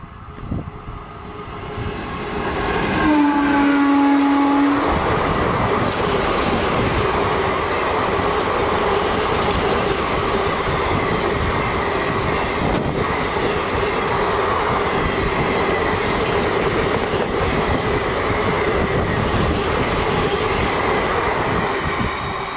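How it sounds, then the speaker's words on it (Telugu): Krishna Express, an Indian train of ICF coaches, roars past close by on the Calcutta–Madras main line, a loud continuous rumble of wheels and coaches, with a short squeal as it arrives, holding steady throughout. "ఓ ఏదో ఐసీఎఫ్ అండి, జన్మభూమి కాదు ఇది, కృష్ణ అనుకుంటా."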